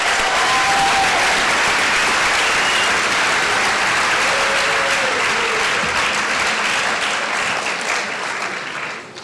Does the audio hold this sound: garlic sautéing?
no